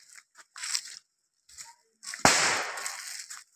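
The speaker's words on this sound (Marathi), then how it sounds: "फटाके वाजवतात कोणतरी" A firecracker goes off in a Konkan village during a traditional Gavaldev celebration, a single sharp bang followed by a crackling tail, after several short scattered crackles and rustles.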